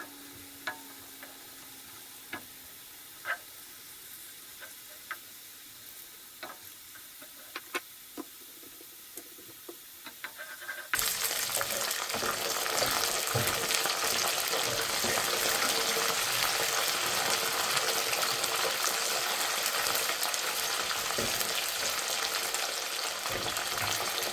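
Onions frying gently with sparse ticks and small crackles, then potatoes dropped into the pan for aloo nihari potato curry set off a sudden loud sizzle that roars on steadily to the end.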